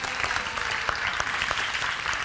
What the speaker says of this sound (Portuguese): Uma salva de palmas para esse casal aqui